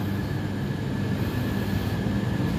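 A continuous low rumble and hum of a premium economy passenger train at Yogyakarta station at night, steady and fairly loud with no talking.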